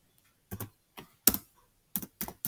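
Fingers type on a computer keyboard in short clusters of crisp keystrokes separated by brief pauses, close and fairly quiet in an otherwise silent room.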